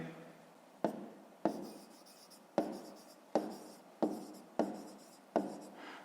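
Writing by hand in a notebook during a fifth-grade maths exercise: seven or so distinct pen strokes and taps sound in an irregular rhythm, close and quiet, with no talking.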